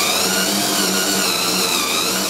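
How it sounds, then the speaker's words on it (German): Cordless drill or drill press slowly countersinking a hole in acrylic glass, giving a loud, steady whirring whine with a bright tone that holds unbroken throughout, with no talking. "ihr könnt das Ganze mit einem Akkuschrauber machen oder auch mit der Tischbohrmaschine."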